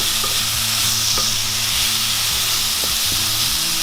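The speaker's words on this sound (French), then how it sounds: "Je vais mettre mon saumon et je vais le faire cuire 2 minutes à la poêle pour voir ce que ça donne." Salmon sizzles steadily in a frying pan, a loud, continuous frying hiss running the whole time with faint clinks and stirring knocks underneath and no talking.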